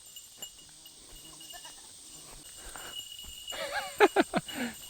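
Goats bleat on a woodland hike. Quiet rustling and shuffling build up first, then several close, loud wavering bleats arrive one after another near the end.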